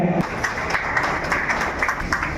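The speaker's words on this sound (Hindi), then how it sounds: "तालियों से इनका स्वागत करें।" Audience applause at a district sound association meeting, with scattered claps rising over a murmuring crowd, moderately loud and fairly even throughout.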